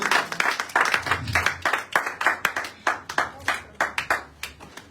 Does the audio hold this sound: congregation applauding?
yes